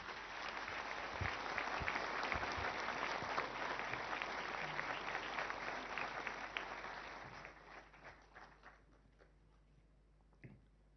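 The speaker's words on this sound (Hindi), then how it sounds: "जोरदार तालियों के साथ स्वागत कीजिए माननीय प्रधानमंत्री श्री नरेंद्र" An audience at a naval seminar in New Delhi applauds to welcome Prime Minister Narendra Modi, a dense, sustained roll of clapping from a large hall that gradually thins out and fades toward the end.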